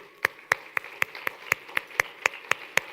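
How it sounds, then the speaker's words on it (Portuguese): A church congregation claps in a slow, steady unison beat of about four claps per second. The claps are sharp and evenly spaced, with a quiet room behind them. "Nós queremos aplaudir Jesus pela bênção que Ele fez na sua vida."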